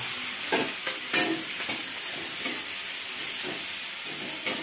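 Onions frying in a pan for pasta give a loud, continuous hiss and sizzle, broken by repeated scraping stirs, with no one talking.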